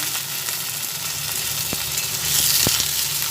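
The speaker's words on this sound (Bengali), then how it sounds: "টমেটোটাও একসঙ্গে ভেজে নিচ্ছি" Tomatoes and onions fry together in hot mustard oil, a steady close sizzle with a couple of sharp crackles and a brief swell of intensity near the end.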